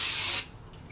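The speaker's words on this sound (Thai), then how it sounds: "ใช้วิธีการสเปรย์แบบนี้ค่ะวงกลม แบบนี้นะคะ" Makeup setting spray mists onto a face in one short, loud hissing burst that cuts off abruptly, leaving quiet room tone.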